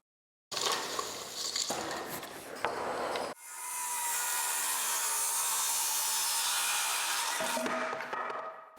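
A saw cuts through a wooden king stud during house framing. A short, rough burst of cutting is followed by a steady, close, high-pitched saw run lasting several seconds, which then stops abruptly.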